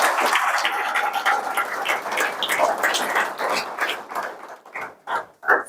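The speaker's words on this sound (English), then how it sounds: "A round of applause to the puppy raiser." Crowd clapping at a guide dog graduation ceremony to honor a puppy raiser, a dense burst of applause that thins out and fades into scattered claps.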